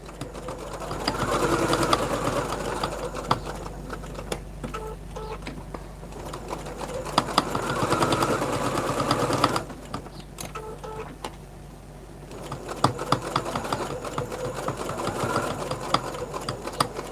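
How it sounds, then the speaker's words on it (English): A sewing machine stitches the inner square of a fabric tray, running in steady close whirring bursts with brief pauses and rhythmic needle clatter. "And we're just sewing on that inner square."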